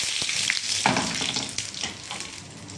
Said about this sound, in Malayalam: ഉഴുന്നൊക്കെ പൊട്ടി വന്നതിൻ്റെ കൂടെ ഒരു 4-5 ഉണ്ടമുളക് ഇട്ട് കൊടുക്കാം.